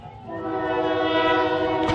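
Loud sustained train horn at a college baseball stadium sounding after a home run, a steady chord that holds for two seconds, with a thud near the end.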